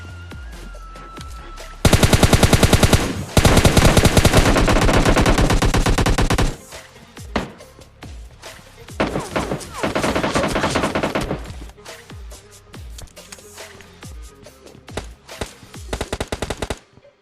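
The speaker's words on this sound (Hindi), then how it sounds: "सामने की तरफ से भाई पूरी की पूरी स्क्वाड नॉन स्टॉप भाई फायर दिए जा रही है" An enemy squad in the PUBG Lite mobile game lays down loud, rapid automatic gunfire in long sustained bursts, followed by scattered shorter volleys and single shots.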